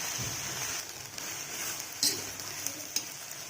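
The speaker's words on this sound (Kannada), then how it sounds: "ನೋಡಿ, ಇವಾಗ ಚೆನ್ನಾಗಿ ಫ್ರೈ ಆಗ್ತಾ ಇದೆ." Green chillies fry on a dry tawa, making a continuous bright sizzle with soft crackles and a few sharper pops near the middle and end.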